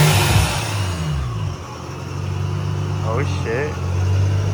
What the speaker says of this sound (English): So he's pulling up in his supercharged 350Z.